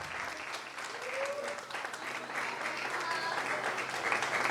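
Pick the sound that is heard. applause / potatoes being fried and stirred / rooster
applause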